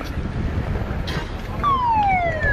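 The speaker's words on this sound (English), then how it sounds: "we heard the lifeboat launch siren go" An RNLI lifeboat launch siren sounds at a harbour: a loud, steady tone that starts partway through and slowly slides downward, over a background of outdoor rumble.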